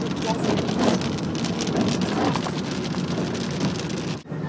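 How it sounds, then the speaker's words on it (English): Heavy desert storm rain drumming steadily on a car's roof and windshield, a dense loud patter heard from inside the moving vehicle, ending with a brief dip in the noise. "Nothing better than a stormy rain break when you're in the"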